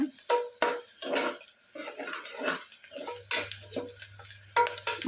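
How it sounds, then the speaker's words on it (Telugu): Onions frying in a pan toward golden brown, with repeated close scraping stirs over a gentle sizzle and a low hum joining partway through; no voices. "ఆనియన్స్ మంచి గోల్డెన్ బ్రౌన్ కలర్లో వచ్చేంత వరకు ఫ్రై చేసుకోవాలి"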